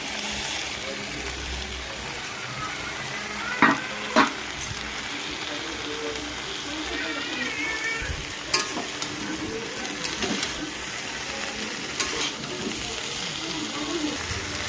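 Pointed gourd and potato curry with tomato masala sizzles and fries in a pan, a steady close hiss broken by several sharp scrapes and clatters of stirring.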